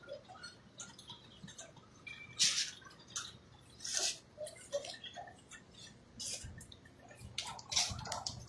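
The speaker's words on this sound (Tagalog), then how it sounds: "Yan, pumapatak-patak na rin po yung ulan." Rain starts falling outdoors under a darkening sky as a storm approaches, with scattered drops tapping irregularly on nearby surfaces, soft and sparse, some hits closer and sharper than others, and no voices.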